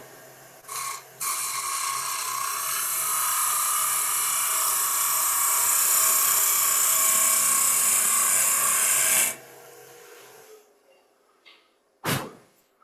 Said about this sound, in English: that wasn't the optimum position for using a bowl gouge